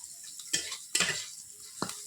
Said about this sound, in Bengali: উচ্ছেটা ভাজাটা চলছে কন্টিনিউ